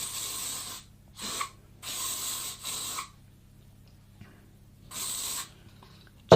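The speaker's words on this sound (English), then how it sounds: "I hold it up and I hairspray" Hairspray misted onto hair from an aerosol can: four separate hissing bursts, each around half a second to a second long, close and moderately loud with brief quiet gaps between them.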